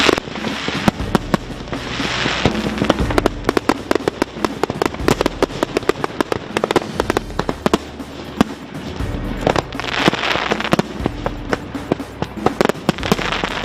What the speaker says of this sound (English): just in case you didn't get your fill of fireworks over the weekend